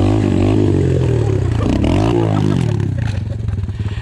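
A small motorcycle is ridden across a field during wheelie practice, its engine revving loud and close, rising and falling with throttle changes and a rattling clatter throughout.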